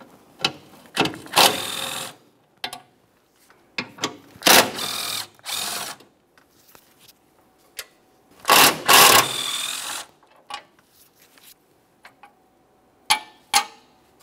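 Ratchet with a 14mm socket loosening the mounting bolts on a 2015-2019 Subaru Outback 2.5L H4, several bursts of rapid close clicking separated by quiet gaps and single taps.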